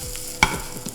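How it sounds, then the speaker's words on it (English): A burger patty for a cheeseburger fries in a pan, giving a steady, close sizzling hiss, broken midway by one sharp scrape or clink, likely a spatula against the pan. There is no talking. "we have our burger down now"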